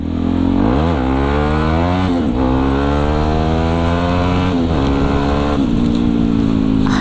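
A Yamaha WR155R motorcycle engine revving hard and loud, rising and falling through repeated sharp surges as the revs climb and drop, close to the microphone.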